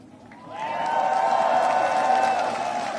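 A large crowd of tens of thousands at the Warsaw Royal Castle cheers and applauds, swelling into a loud, sustained roar with whoops over steady clapping, then easing slightly toward the end.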